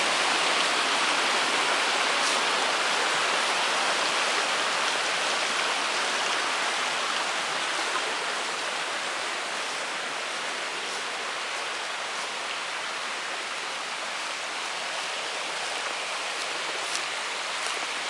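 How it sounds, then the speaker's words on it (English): Water rushing through a gem mine flume beside a picnic area, a steady, dense splashing hiss heard close and unbroken throughout. "this is also where we have our gem mine flume, which is on the other side of the picnic area"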